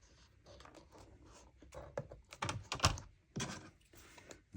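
Paper being trimmed for a small 3x4 mini album, heard as close, quiet cutting and tapping sounds in an irregular run, with a few sharper snips near the end.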